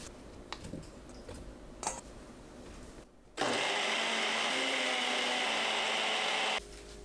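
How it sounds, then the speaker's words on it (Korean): Blender grinding peeled tangerines, a loud steady whirring roar that starts abruptly, runs for about three seconds and then cuts off. "믹서에 넣고 갈아주세요."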